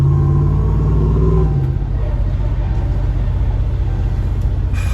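A 2017 RAM 2500 Big Horn with its muffler deleted rumbles loud and close, a deep exhaust drone easing off after a moment into a steady low cruising roar, with no speech.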